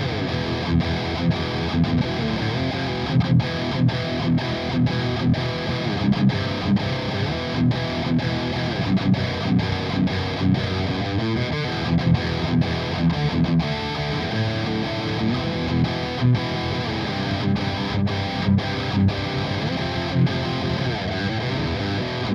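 An electric guitar played through a Peavey Invective amp with the boost engaged, giving a thick, distorted tone. It is dense and continuous, with chugging chords and no pauses throughout.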